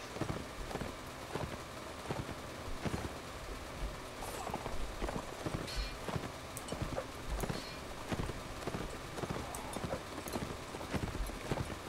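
Horses in a line-battle video game clip-clop steadily, many hooves overlapping in a busy, continuous rhythm that stays at a fairly even level throughout.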